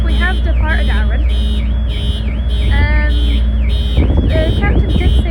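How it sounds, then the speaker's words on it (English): Several car alarms blare in cycling, warbling electronic tones across a ferry's enclosed car deck on the M.V. Alfred sailing Brodick to Troon, loud and continuous with deep engine rumble beneath and a voice talking over them. "if you can hear me over the car alarms"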